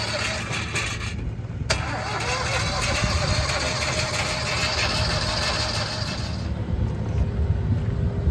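A 20.5 horsepower Kohler engine on a giant towable leaf vacuum runs steadily nearby, a constant mechanical drone with a sharp knock early on and no speech over it.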